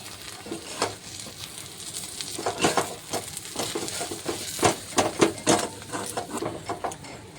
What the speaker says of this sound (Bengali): যে কত সুন্দর ভাজা হচ্ছে এটায়